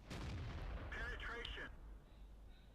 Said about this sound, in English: Completely unnecessary heat round there on the lower plate of the Yak Tiger.